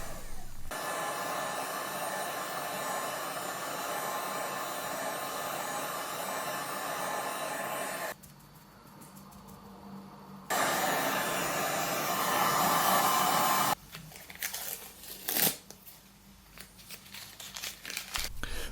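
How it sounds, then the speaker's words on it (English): A heat gun blowing hot air to dry treated leather on a BMW E46 M steering wheel, a steady loud whooshing roar that cuts off and restarts several times, with some handling noise between runs. "use a heat gun to dry it out or just let it dry by itself"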